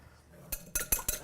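Eggs and liquid ingredients for crepe batter whisked in a bowl, a short quiet pause followed by four sharp, rhythmic metallic clinks of the whisk against the bowl.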